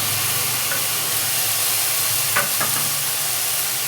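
Tomatoes and onions frying in a pan for vada curry, a loud steady sizzle and hiss throughout, with a few brief stirring clinks partway through.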